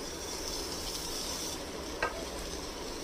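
Chopped onion sizzling in a hot, dry pan with no oil, a steady soft hiss with faint stirring and one brief scrape.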